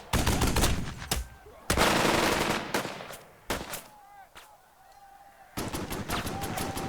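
Heavy machine gun bursts rattle in the wartime strategy game Burden of Command, several loud rapid volleys separated by short pauses, with quieter battlefield ambience and a brief whistling tone between them.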